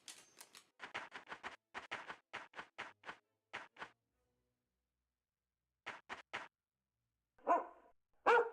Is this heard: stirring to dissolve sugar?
no